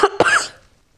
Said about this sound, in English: I am still having a bit of a cough.